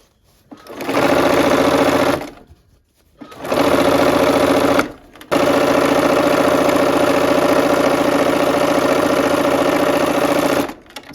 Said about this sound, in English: I'm going to go ahead and just sew this down